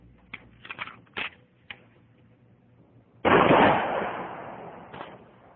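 A shotgun fires a single blast of number 4 buckshot into a mannequin wearing soft body armor: one loud, sharp report that rings and fades over a couple of seconds, after a few faint clicks and handling taps.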